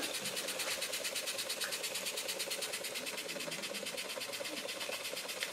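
A Weeden #3 toy steam engine runs steadily, giving a fast, even mechanical chuffing and rattling rhythm that continues at moderate level throughout with no pauses and no speech.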